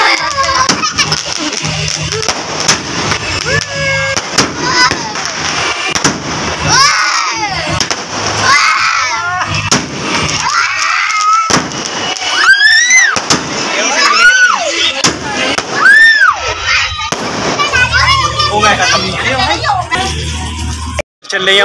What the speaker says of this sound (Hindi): चल रही है हमारी पटाखा पार्टी